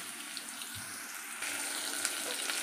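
Onion frying in hot oil in a pan after a cumin tempering gives a faint, even hissing sizzle that grows slightly louder partway through, steady and close with no talk.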